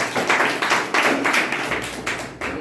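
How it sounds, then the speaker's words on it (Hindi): A group of students at an Indian arts academy's Teachers' Day event clapping for themselves, loud, bright applause in rapid uneven bursts that rise and dip across the room. "कम से कम एक बार अपने लिए आप लोग ताली बजा लीजिए"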